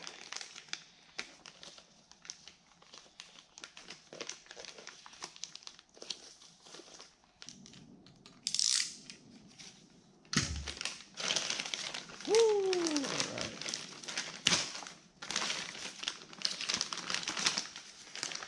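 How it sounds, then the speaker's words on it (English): Wax-type anti-rust paper wrapped around a BEAMS ORC super single clutch is unfolded and crumpled, giving close, irregular crinkling and rustling bursts throughout, with a sharper stretch in the last third. "This is good paper, like a wax paper for like anti-rust."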